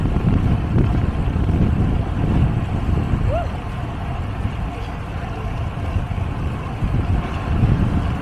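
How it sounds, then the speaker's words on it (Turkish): Steady wind rushes and buffets across the microphone in a continuous low roar, with a faint motor hum underneath. "Kafa rüzgarı. Hafif. Acıcık yandan, acıcık önden."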